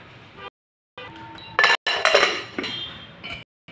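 A metal lid clatters onto a cooking pot of fish soup, with a few sharp clinks and a louder clanking burst in the middle, separated by brief silences.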